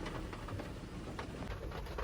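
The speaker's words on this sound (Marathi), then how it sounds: "मस्त पाऊस येते पाऊस काय बंद झालेला नाही अजून पण" Steady rain pattering in a continuous low wash, with a dull rumble underneath; no voices, just an even, unbroken downpour.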